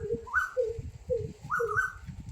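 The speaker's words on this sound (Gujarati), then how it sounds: "આ કોયલ તો જો બોલે છે" An Asian koel calling outdoors near a farm field, two rising whistled phrases repeating in a steady rhythm, clear and moderately near, with other bird notes between and no talking.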